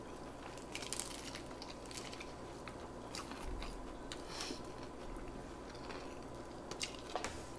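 Crisp bites and crunchy chewing of a crispy Vietnamese crepe (bánh xèo), close and fairly quiet, with a few sharper crunches standing out over a steady soft background.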